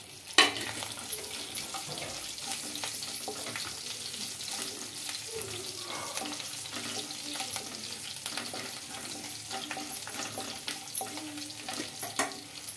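Mustard seeds, cumin and garlic cloves crackle and sizzle in hot oil with a steady broadband hiss, scattered sharp pops and a louder splatter near the start, with occasional scraping stirs throughout.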